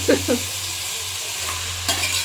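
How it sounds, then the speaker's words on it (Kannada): Food for a chicken sambar frying in a wide pan, a steady close sizzle with a couple of stirring scrapes at the start and another near the end, no voices. "ಚೆನ್ನಾಗಿ ಫ್ರೈ ಆಗಬೇಕು, 1-2 ನಿಮಿಷ"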